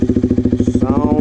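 A modified motorcycle with an aftermarket exhaust and no dB killer revs loudly up close, a fast, pulsing, throaty putter that rises in pitch near the end.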